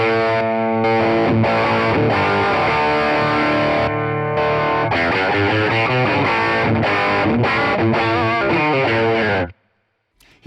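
An electric guitar plays loud and sustained through overdrive and distortion pedals into a Fender tube amp, with a thick, saturated tone. It rings continuously for about nine seconds, then cuts off abruptly.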